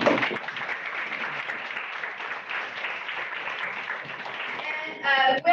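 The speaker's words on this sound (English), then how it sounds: "Okay, let's give them a round of applause." Audience applause for a team that has just finished presenting at a food-themed panel event. A steady, fairly dense patter of clapping holds throughout at moderate volume, with a brief burst of louder sound near the end.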